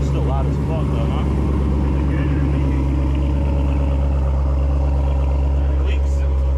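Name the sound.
LS3 6.2L V8 engine running in swapped Mercedes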